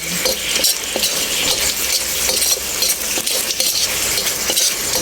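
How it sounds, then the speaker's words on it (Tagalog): Garlic and onion sautéing in hot cooking oil for adobong sitaw with pork belly, a steady dense sizzle with occasional spatula scrapes and clinks against the pan, close and continuous without talk. "Igigisa natin ang bawang sibuyas."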